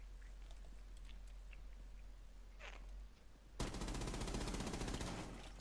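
Gunfire in the video game Rainbow Six Siege starts abruptly as a loud, rapid burst of shots after about three and a half seconds of quiet game ambience with faint clicks, then carries on steadily to the end.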